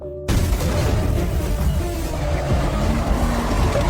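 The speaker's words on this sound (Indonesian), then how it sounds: "masuk mobil, oper gigi 6, tancap gas. Mobil itu melesat kencang bagaikan anak panah." After a brief silent moment, a loud car engine roars in as a film car shifts into sixth gear and speeds away, a dense rumbling surge that holds strong to the end without speech.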